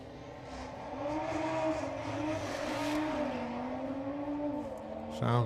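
An Audi drag race car at a drag strip revs and launches from the start line, engine note climbing and holding strong at a distance before a sharp burst near the end.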